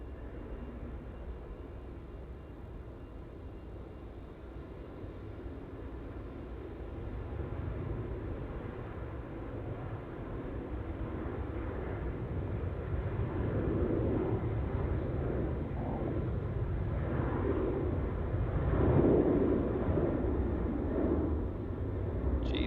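A Virgin Australia airliner takes off at Melbourne Airport bound for Newcastle, its low engine rumble building gradually from far away and growing louder over about twenty seconds, with no talking.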